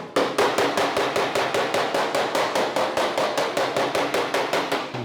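Rapid steady hammering on a steel fender panel being shaped for a 1940 Ford Coupe-inspired build, each blow ringing as the metal bumps against a rod behind it; some twenty evenly spaced, loud, close strikes with no talk.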